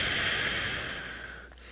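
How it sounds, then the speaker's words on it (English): A forceful whooshing exhale pushed out through the mouth, one long steady breath of airy hiss, close and fairly quiet, tapering off at the end. "So it should basically sound like a whoosh as it's coming out of your mouth"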